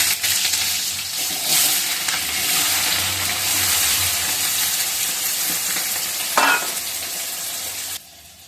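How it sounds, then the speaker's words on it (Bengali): Potatoes fry in a pan with a steady broadband sizzle and occasional stirring scrapes, one brief clink near the end before the sound cuts off abruptly. "তো আমি প্রথমে আলুটা ভেজে নিই।"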